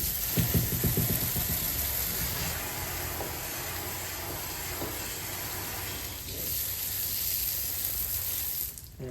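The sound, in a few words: rinsing Karcher B150R floor scrubber parts with water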